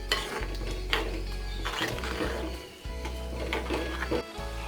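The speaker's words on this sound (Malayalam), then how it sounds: "ഇതൊന്ന് മിക്സ് ചെയ്ത് കൊടുക്കാം." A spoon stirs bitter gourd curry in a pot after coconut milk is poured in, giving soft scraping and clinking strokes against the pan over a low hum, quiet and with no voices.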